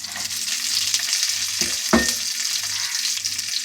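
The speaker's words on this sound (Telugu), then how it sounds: "తాలింపు వేగిందండి, ఇప్పుడు ఆనియన్స్ వేసుకుందాం." Onions crackle and sizzle in hot tempering oil with dried red chillies and curry leaves, a steady close hiss with a sharper burst near the middle as they hit the pan.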